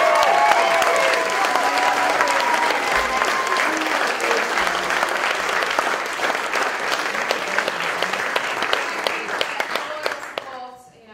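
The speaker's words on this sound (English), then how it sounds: "Just give them a big round of applause" A theatre audience at a Julius Caesar performance applauds the tech team, a long, loud wash of clapping with some voices and a cheer early on, gradually thinning before dying away.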